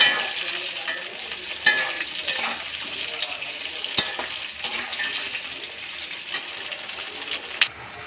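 Chopped tomatoes hit a hot pan of onion and capsicum gravy, producing a bright, continuous sizzle with scraping stirs and occasional metallic clinks close by.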